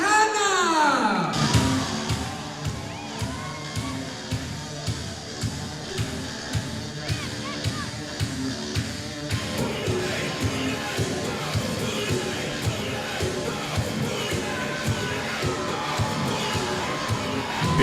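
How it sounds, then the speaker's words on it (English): A crowd at a Red Rock Wrestling show cheers and applauds as wrestler Julius Fantana makes his entrance, loud continuous crowd noise over a steady pounding beat. "Big round of applause, big cheers for Fantana"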